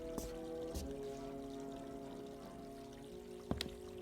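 Water pours steadily from a diner kitchen tap in a steady, moderately quiet stream, with a couple of brief clinks near the start and a sharper knock near the end.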